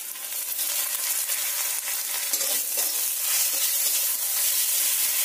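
Ginger-garlic paste frying with salted, browned onions in a pan; a loud, dense, continuous sizzle with stirring scrapes, close by and steady throughout, with no voices.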